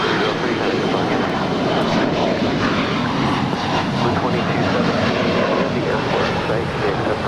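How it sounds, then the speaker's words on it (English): A five-year-old SkyWest Embraer E175 LR jet taking off from LAX produces a loud, continuous broadband engine roar that holds steady throughout, with faint voice chatter beneath. "That is SkyWest 3303 departing to Austin. It's a 5-year-old Embraer E175 LR."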